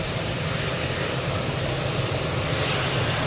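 An airliner taxis onto the runway at Manchester Airport, its engines giving a steady, loud, unbroken rumble throughout, with no voices.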